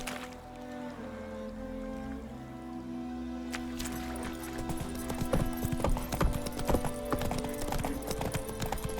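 Roach, a horse in The Witcher 3, walks with clear, rhythmic hoof clip-clops that start a few seconds in and continue steadily over low ambient game sound, with no talking.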